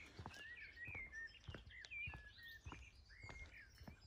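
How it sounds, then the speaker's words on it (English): Small birds chirp outdoors in East Devon, a quiet, scattered series of short bright tweets and trills, with faint low thumps in between. "You hear the birds?"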